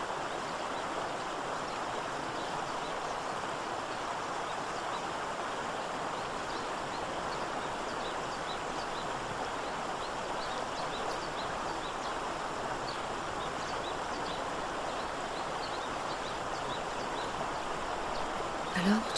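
Water from a mountain waterfall cascade flows in a steady, soft, even rush that stays unchanged throughout, faint and distant in tone.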